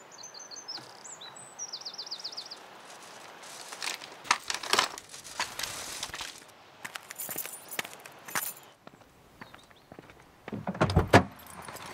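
Keys jangle in a few short metallic rattling bursts nearby, with quiet rustling and a faint bird chirp in the background.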